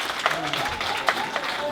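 An audience at a Nigerien community celebration of the Day of Women and Children claps steadily, a brisk mass of handclaps with a few sharper bursts, and a voice can be heard faintly among it.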